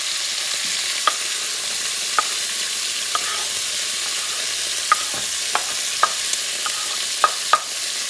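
Chopped onion sizzles in rendered fat for a Puerto Rican rice stew, a continuous hiss of frying punctuated by occasional sharp clicks of a utensil against the pot as it is stirred.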